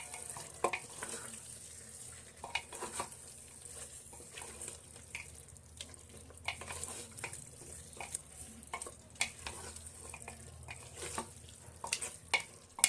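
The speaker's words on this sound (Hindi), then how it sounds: "आलू गुड़ा को मटन सहित आम भल भाव मिक्स करना।" Potatoes and mutton stirred together in a pot make repeated scraping and clattering strokes of a spoon against metal over a soft sizzle, coming in irregular bursts.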